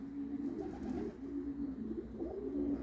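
Pigeons coo close by in soft, low, repeated rolling calls, overlapping one another without pause.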